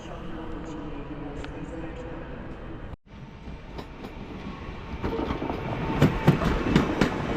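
A train rolls into Wrocław Główny station, a steady rumble with rail clatter that grows louder and busier toward the end, with voices talking over it.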